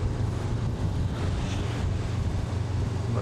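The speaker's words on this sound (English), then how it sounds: "This is now south wind, so it just makes the waves here." Steady south wind buffets the microphone over continuous rolling waves at Kalamata beach on the Peloponnese coast, a loud, dense, unbroken rumble with no voices.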